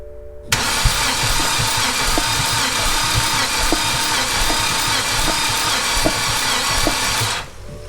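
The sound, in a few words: BMW 528xi engine cranking during compression test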